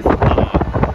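Wind gusting and buffeting an outdoor microphone at a Miami shipyard beside a docked cruise ship, a loud, steady rush with rhythmic surges throughout.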